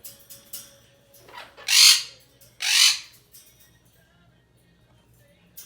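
Sammy, a female Quaker parrot, gives two loud harsh squawks close by, separated by a short pause, with faint chirps and rustles before and after in a quiet room.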